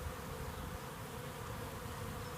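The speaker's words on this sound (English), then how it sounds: "A lot of bees coming and going, as you can see." A dense, continuous buzz of many honey bees at a busy hive, steady and close, with no voices.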